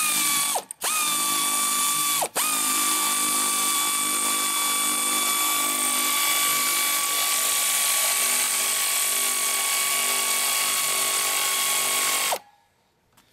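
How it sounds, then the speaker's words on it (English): An air ratchet spins a long bolt into a pre-drilled hole, a loud steady whirring drone with two brief stutters near the start, running continuously before cutting off abruptly. "there's nothing like an air ratchet"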